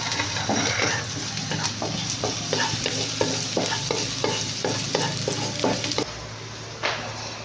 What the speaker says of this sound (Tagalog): when the oil is hot, let's put garlic, ginger, and this onion leaf. Saute for a little while